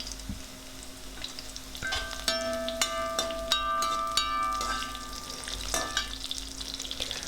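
Dried and green chillies sauté in a pan, giving a continuous close sizzle with scraping stirs, while a faint tonal hum runs through the middle of the clip.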